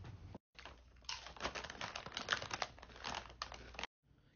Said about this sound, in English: Can you chew any fucking louder?